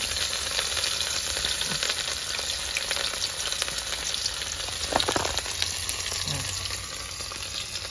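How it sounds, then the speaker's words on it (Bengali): Fish sizzling steadily in hot oil, a continuous crackling fry with a brief louder spatter midway, close and alone with no talk. "বন্ধুরা, তেল গরম হয়ে গেছে, মাছটা ভেজে নেবো।"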